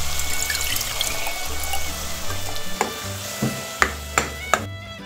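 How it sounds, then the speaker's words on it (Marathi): Half a glass of water is poured into a pan of sizzling raw banana curry, a watery splash over the frying hiss, followed by several distinct spoon knocks against the pan near the end, heard close and without speech. "आता अर्धा ग्लास पाणी घालू।"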